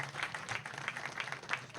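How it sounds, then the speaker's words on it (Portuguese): A congress audience at a union gathering gives a round of applause, with irregular overlapping claps forming a lively, moderately distant patter that continues steadily throughout. "Uma salva de palmas para o André Valucci."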